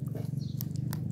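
A cross cat gives a low, continuous throaty growl from close by, steady and rumbling, with a few faint clicks over it.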